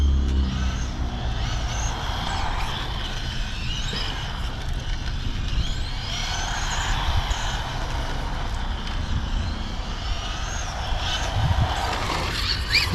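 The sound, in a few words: car lapping a circuit while being timed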